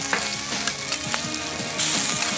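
Beaten eggs sizzle on a Mojave fire table griddle, a close, continuous frying crackle broken by scraping stirs and clicks, growing louder and brighter toward the end.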